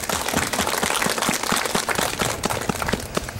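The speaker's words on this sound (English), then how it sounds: "Let's give him a round of applause." An outdoor Veterans Day ceremony crowd at the Putnam County Veterans Wall claps steadily, a brisk, fairly loud wash of applause with no talking over it.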